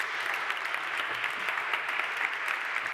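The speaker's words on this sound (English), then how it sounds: "From rags to riches, a big round of applause," Continuous, even applause from an audience at a media briefing on innovations, a steady crackle of many hands throughout, moderately distant and fading sharply at the very end.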